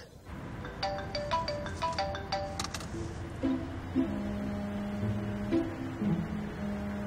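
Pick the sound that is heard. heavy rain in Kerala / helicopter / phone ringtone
phone ringtone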